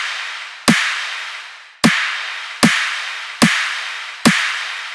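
A dubstep snare layer boosted around 1.6 to 1.8 kHz, struck five times in a loose rhythm, each hit a sharp, bright crack with a long noisy tail, loud and alone.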